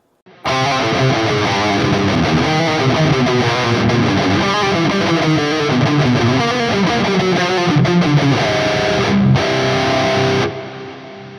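A heavily distorted electric guitar chugs through a fast, aggressive death metal riff, loud and continuous, then cuts off abruptly near the end.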